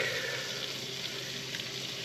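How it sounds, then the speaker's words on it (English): Garlic sizzles in melted butter in a frying pan over low heat, a steady close hiss and crackle that stays even throughout with no talking. "Now that our butter is nice and melted, we'll go ahead and add our garlic."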